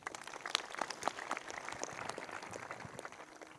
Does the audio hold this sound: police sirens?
no